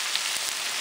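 Minced pink salmon sizzling in a frying pan on a stove just switched off, a steady hissing crackle with faint pops, close by and alone.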